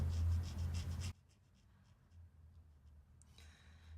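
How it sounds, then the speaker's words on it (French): A black alcohol marker coloring on paper, making a loud rhythmic scratchy stroking for about a second, then faint occasional squeaks and taps, close and without talk. "on va colorier avec un feutre à alcool noir les yeux et le sourcil"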